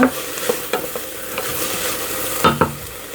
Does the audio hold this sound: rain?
no